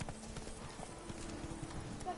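Horse hooves clip-clop steadily in the Witcher 3 video game. The soft, rhythmic hoof falls run under voices talking.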